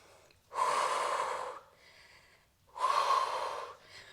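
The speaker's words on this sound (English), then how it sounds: "Breathing in through the nose and out through the mouth." Two long, forceful breaths during a Pilates workout, drawn in through the nose and pushed out through the mouth. Each is a loud, close, airy rush lasting about a second, with a short quiet gap between them.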